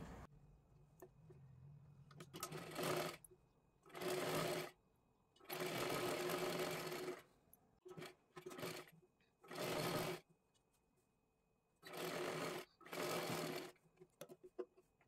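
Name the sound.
sewing machine doing a straight stitch on a katori blouse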